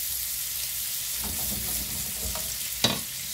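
Grill burgers sizzle steadily in a frying pan with a constant hiss, while a utensil scrapes and stirs now and then, with a sharper clink near the end.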